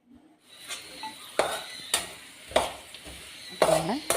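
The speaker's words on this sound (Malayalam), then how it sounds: "പിന്നെ ഇളക്കി കൊടുക്കുമ്പോൾ ഇടയ്ക്ക് സിമ്മിലാക്കി വെച്ചിട്ട് ഇളക്കിക്കൊണ്ടേയിരിക്കുക" Potatoes with spice powders and chicken masala fry in a pan, a soft sizzle under repeated scraping stir strokes from a utensil at an irregular pace, close by.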